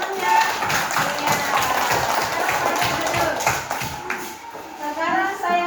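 A classroom of students claps together in a quick burst of applause, steady dense patter of hands near the microphone, with children's voices mixed in.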